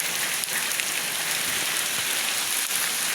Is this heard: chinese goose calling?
no